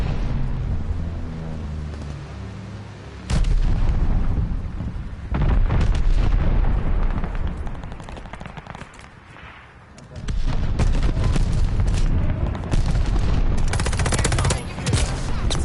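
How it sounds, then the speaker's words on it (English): Heavy mortar and weapons fire from a Call of Duty Vanguard match rolls through in loud repeated booms and crackling bursts, with a player talking over the battle. "Friendly mortar fire coming."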